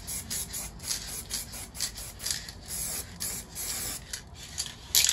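An aerosol can hisses in repeated close bursts as a 1:10 scale RC Kirovets K700 tractor model is spray painted, with short pulses of spray continuing steadily throughout.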